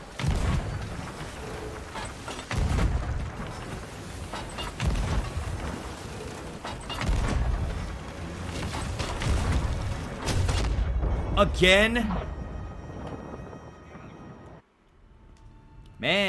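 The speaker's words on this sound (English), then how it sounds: "Man, this guy's good on his cannons." Cannons boom repeatedly during a player-versus-player video game battle, heavy thuds recurring every second or two alongside mechanical creaks and effects, with someone talking over the gunfire.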